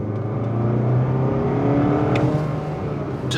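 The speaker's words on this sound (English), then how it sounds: "Let's get on the throttle." A 2025 Mazda CX-30's engine accelerates under throttle from the cabin, a steady rising drone with a few brief clicks over it, loud and continuous with no talk.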